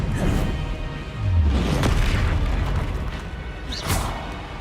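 Expelliarmus spell cast in Hogwarts Legacy, a booming magical impact with crashing thuds and a sharp crackling burst near the end, loud and close amid combat.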